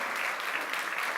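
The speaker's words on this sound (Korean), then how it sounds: "우리 큰 박수 한번 쳐주세요." A congregation at a Korean Sunday church service breaks into a burst of steady, even clapping that fills the room at a moderate distance, with no voices over it.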